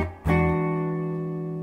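Electric guitar plays a short blues turnaround lick, a quick pick attack and then a chord ringing and sustaining up close, with no talking.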